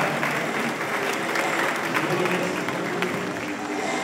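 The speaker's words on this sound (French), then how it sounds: "d'avoir accueilli les mariés avec un tonnerre d'applaudissements" Dense, sustained applause from a crowd of wedding guests in Cameroon greeting the newlyweds, a continuous loud wash of clapping with some voices mixed in.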